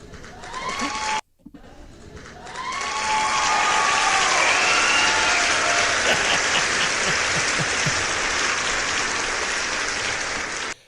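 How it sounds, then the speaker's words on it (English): An applause sound effect track plays: after a brief cutoff, a long swell of many hands clapping rises and holds steady and full for several seconds before stopping abruptly. "I'm thoroughly entertained by an applause track"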